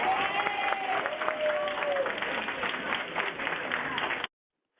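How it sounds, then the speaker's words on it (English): Audience applause at a senior centre event in Woodhaven for an assemblyman, a sustained round of clapping and crowd noise at moderate loudness that stops abruptly near the end, with voices mixed in. "it was a nice little round of applause for you"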